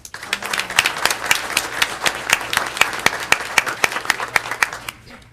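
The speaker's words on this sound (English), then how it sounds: "how about a round of applause for all these guys" Scattered hand claps from a small audience at a school district board meeting, sharp and uneven, fading out at the end.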